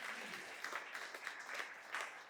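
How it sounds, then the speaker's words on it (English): Scattered applause from a small audience at a talk on stress and energy, a steady wash of clapping with a few louder bursts, fairly distant and thin, no voices over it. "I'll take a clap"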